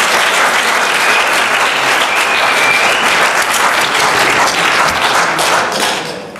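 An audience claps hands for a rabbi's message, loud dense applause running steadily throughout before tapering slightly at the end, with no speech over it.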